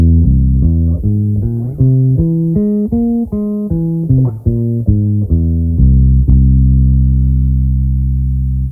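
A single instrument plays a flowing arpeggiated line of clear, sustained notes, climbing and descending in steady steps before settling on a held tone.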